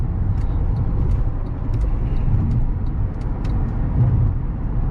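A 2011 Honda Accord EX-L with about 200,000 miles cruising on the road, a steady low engine and tyre drone heard from inside the cabin with faint light ticks over the hum.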